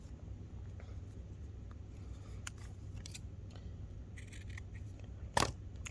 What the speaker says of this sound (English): So I'm going to stop right at that point, and I'm going to trim a little off.